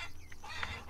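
Farm chickens cluck softly in the farming game Farmer's Dynasty, a faint, brief burst of bird noise over a low background hum.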